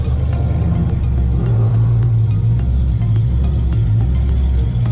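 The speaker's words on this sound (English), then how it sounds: "Damn, is that thing straight piped or what?" A loud straight-piped car engine rumbles close by with a deep, steady, throaty idle and slight rises in revs, continuous throughout and with no voices.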